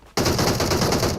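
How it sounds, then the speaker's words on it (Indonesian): A rapid burst of automatic gunfire in the video game PUBG Mobile starts abruptly and runs loud and continuous for about a second, with no talk. "Dia nembak gue"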